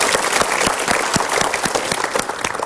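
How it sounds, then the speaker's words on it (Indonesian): Loud, dense clapping from a seminar audience at a motivational talk, sustained and even across the whole stretch with no voices over it. "Kita berikan tepuk tangan dulu."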